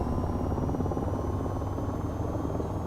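An attack helicopter engine throttles up in the VTOL VR video game, a steady close rotor chop over a broad, loud, constant whine with no talk.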